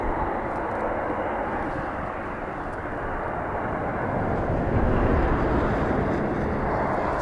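An ATR turboprop lands in a gusty crosswind at Dublin Airport, a continuous engine and propeller drone mixed with wind buffeting the microphone, swelling slightly toward the end, with no voices.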